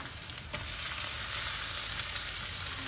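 Onions frying in hot oil in a pan give a steady, close hiss that swells after a soft clink and holds loud and even to the end.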